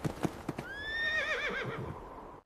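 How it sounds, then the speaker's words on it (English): A strong brown horse near a snowy jungle clip-clops in a few distinct hoof strikes, then gives a loud, wavering whinny that fades out. "A young traveler arrived near the snowy jungle, riding a strong brown horse."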